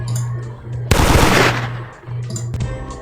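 Video game gunfire: a sudden loud burst of rapid shots lasting about half a second, then fading, with an electronic hum and game sounds around it.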